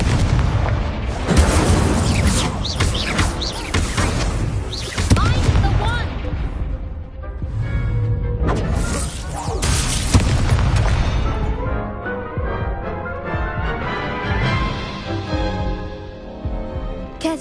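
Spell blasts and explosions in a Harry Potter video game boom repeatedly in heavy, loud bursts over a steady game soundscape, the impacts easing into a softer musical tail near the end.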